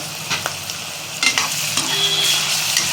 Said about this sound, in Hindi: तो अच्छे से प्याज को कर लेते हैं फ्राई, जब तक ये हल्का ब्राउन ना हो जाए।